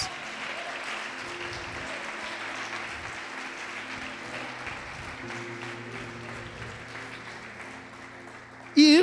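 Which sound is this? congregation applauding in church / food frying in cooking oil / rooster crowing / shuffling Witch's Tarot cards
congregation applauding in church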